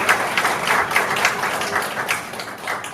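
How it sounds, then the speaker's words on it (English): Audience applause welcoming Alan Moore at a library event, a dense patter of clapping hands with fairly even loudness throughout, no voices over it. "A round of applause, please."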